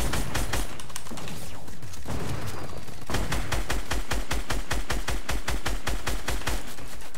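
Rapid bursts of gunfire from the video game Fortnite ring out, first as a dense, chaotic fusillade and then as a steady, evenly spaced run of loud shots.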